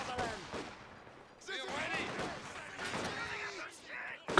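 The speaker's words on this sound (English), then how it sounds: "Rifle nade here to force him back a little bit." Rifle grenade fired in the Company of Heroes game, heard as a sharp explosive burst amid ongoing battle noise with further bangs and crackle, loud and close, with a voice talking over parts of it.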